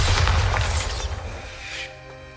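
Bombarda spell explosion in the Hogwarts Legacy video game: a single loud, deep boom with a bright crackling burst that fades slowly into a lingering rumble.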